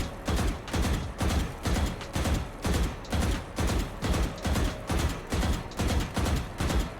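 Rapid bursts of gunfire from a weapon in the tactical shooter Valorant, played on console: about a dozen short, evenly spaced volleys in a steady rhythm, loud and close, with no talking.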